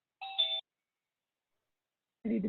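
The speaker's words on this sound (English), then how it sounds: "I don't know how to turn the doorbell ding off." A home doorbell gives a two-tone electronic ding, short and clear, followed after a silent gap by the start of a second chime.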